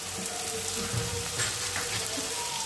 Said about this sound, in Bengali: এবার মশলাটাকে ভালো করে কষিয়ে নিই।